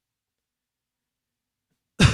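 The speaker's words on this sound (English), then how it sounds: "coughing." Near silence gives way to a single close, abrupt cough from a person indoors, cut off right at the end.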